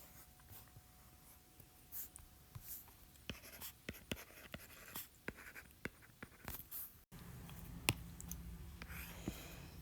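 Pen or marker scratching out math equations by hand on a surface for an Algebra 2 lesson, soft intermittent strokes and taps with quiet pauses, the room tone getting louder partway through.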